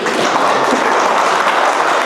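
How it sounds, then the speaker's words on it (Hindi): Audience applause at an alumni talk by a university alumnus on resilience, a dense steady wash of clapping filling the room for about two seconds with no voices on top. "ताली बजा दो जल्दी से।"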